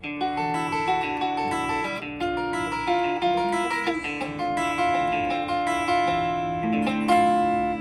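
An acoustic guitar plays a picked chord pattern, individual notes ringing out in a steady repeating rhythm, clear and close.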